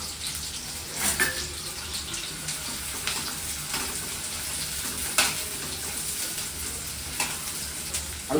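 Onions frying in oil in a pan for methi chicken, a steady background sizzle broken by periodic scrapes and clinks of stirring, moderately loud and close with no talking.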